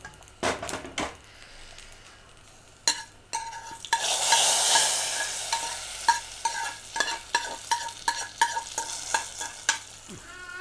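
A mustard seed and fenugreek tempering stirred into Kerala sambar brings a short rush of sizzling, then repeated clinks and scrapes of a spoon against the pot in an uneven rhythm, close and fairly loud.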